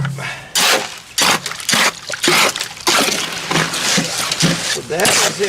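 Wet cement being mixed by hand with water and added fiberglass fibers for masonry steps, giving repeated sloshing, splattering bursts in an uneven rhythm, loud and close, with a voice briefly heard.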